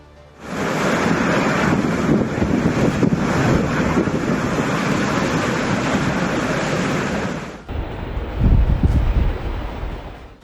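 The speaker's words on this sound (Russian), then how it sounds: "мощный шторм Брэм обрушился на большую часть территории Великобритании, принеся с собой шквальный ветер и проливные дожди" Storm Bram's winds roar across a British coast, with heavy surf crashing beneath, while microphone-buffeting gusts form a dense, steady wall of noise that drops away abruptly and gives way to a rumbling wave surge.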